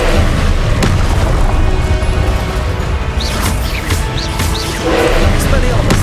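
Confringo blasting spell bursting in Hogwarts Legacy, a series of booming crashes over a dense, loud game soundscape with whooshing effects and a brief voice in the background.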